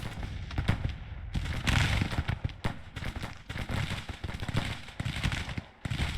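Musket volleys from troops in Grand Tactician: The Civil War crackle in dense, overlapping bursts, a continuous ragged rattle of many rifles firing near and far.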